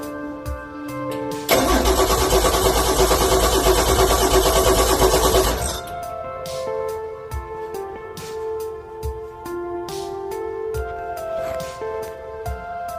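An early Ford Bronco, parked since 1994, cranks with a loud rapid whirring starter churn for about four seconds, then cuts out, leaving quieter shop noise with scattered knocks and clicks.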